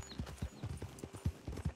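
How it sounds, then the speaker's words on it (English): Horse hooves clip-clop quietly in the Red Dead Redemption 2 video game, a soft uneven series of hoof thuds at walking pace, faint and somewhat distant. "Hanging out with the Braithwaite horses? No, the gray horses."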